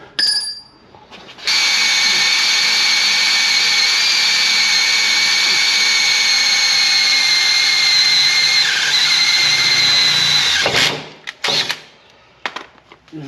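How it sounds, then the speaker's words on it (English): A high-pitched whining power drill bores steadily into metal for about nine seconds while fitting trailer receiver lights to an F450, then stops, followed by a few clanks and handling noises. "Let's tap a hole in the sucker and go from there."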